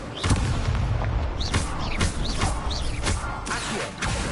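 Repeated Incendio fire spell blasts in a Harry Potter video game, loud booming bursts in quick, irregular succession, with whooshing tails over a dense, noisy background.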